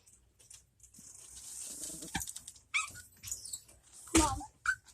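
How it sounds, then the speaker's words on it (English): Nearby, a dog makes a few short, fairly quiet growls and whimpering noises, scattered in separate bursts over a low, quiet background. "all I hear is a bunch of growling"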